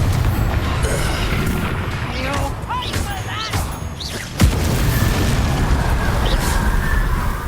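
A Confringo spell explosion erupts in Hogwarts Legacy, a sharp booming blast about halfway through that rises out of a dense, continuous layer of game effects and chirping magical sounds.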